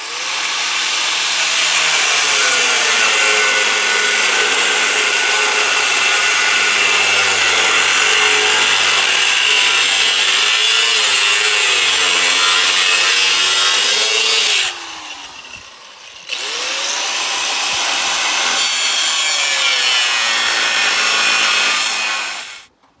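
A power saw cuts off steel square tubing in long, loud, continuous grinding runs that stop briefly and restart for a final cut, heard close up with no talk.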